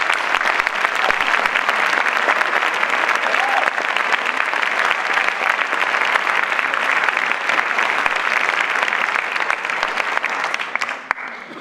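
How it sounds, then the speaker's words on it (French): Sustained, dense audience applause at the closing ceremony of a film festival in La Roche-sur-Yon, steady and fairly loud throughout before thinning out at the very end. "nous pouvons applaudir toute l'équipe et en particulier M. Paolo Moretti"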